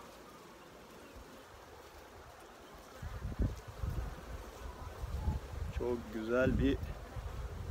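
A continuous, close buzz comes from bees at a hive being harvested for honey, growing louder partway through as a person begins talking over the humming swarm.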